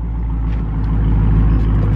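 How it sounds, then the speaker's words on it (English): A Dodge Hellcat's engine rumbles loudly and steadily, a deep, close, continuous growl with no pauses. "Babe, start the car."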